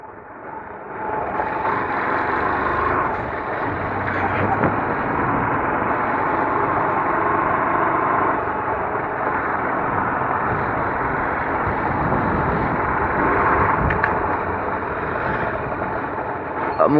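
A steady motorcycle engine drones continuously up close, with a voice talking over the rumble.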